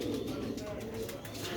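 Sialkoti rooftop breeder pigeons coo in a dense, low, throaty murmur, several birds close by, with voices faintly underneath.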